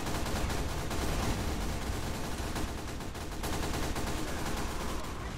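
Several SMGs fire together in Team Fortress 2, close and loud in a steady, continuous rattle that lasts the whole stretch with no pauses.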